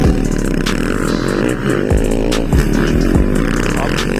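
A Kawasaki KX 450X motocross motorcycle racing in a power enduro class event, its engine revving loudly with repeated rising and falling throttle bursts close by.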